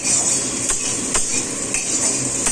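Onion frying in a pan for a tadka, with a constant close sizzle broken by several sharp scrapes and clinks of a metal spatula stirring against the pan.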